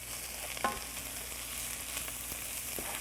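Mushrooms with garlic powder and crushed red pepper flakes sizzle steadily in a pan for a spinach and mushroom quiche, a soft continuous frying hiss with a faint stir near the end, no voices.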